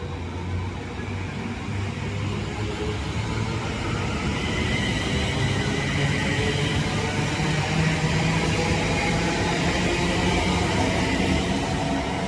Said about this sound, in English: there goes my train, the late running 13:21 London North Western Rail service to Northampton